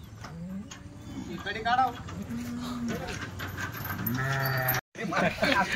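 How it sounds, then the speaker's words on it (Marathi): Kathiawadi sheep and goats bleat repeatedly, close and loud, while being loaded into a vehicle, their calls overlapping with people talking and a brief dropout near the end. "गाडीत टाकायच्या शेळ्या MH15. हे बघा शेळ्या"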